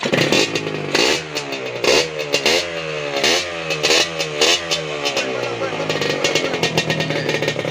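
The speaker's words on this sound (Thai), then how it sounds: "ใส่ ใส่ท่อแล้วครับ เจ้า ของรถจะประเดิม สตาร์ท ฟังเสียงครับ" A Yamaha VR150 motorcycle fitted with a new exhaust starts and revs hard again and again, its loud, close engine note climbing and dropping in quick repeated sweeps, with voices in the background.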